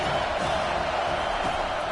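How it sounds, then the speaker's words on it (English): Crowd at a college football game, Georgia Tech at Miami, as a dense continuous roar and hiss of many voices held at a steady level for two seconds. "This crowd trying to make life miserable for this offense."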